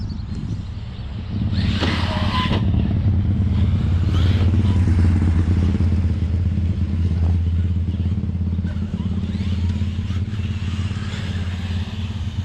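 A Traxxas RC car's motor whines loud and close under throttle, holding a steady buzzing drone with some rattling clatter for most of the stretch.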